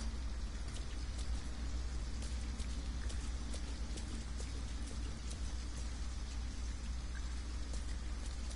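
Rain falling in the video game Detroit: Become Human, a steady dense patter of drops on surfaces with a low continuous wash underneath, even and unbroken throughout.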